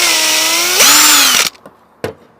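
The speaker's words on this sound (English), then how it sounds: "I find the center of the top bar and I drill my hole for the nail" A power drill whines loudly up close as it bores a hole in a wooden bee frame top bar, its pitch dropping under load before cutting off, followed by a couple of sharp knocks.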